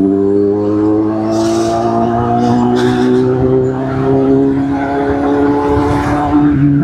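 A car engine and exhaust hum in a steady, fairly loud drone while the car is driving, with no voices over it.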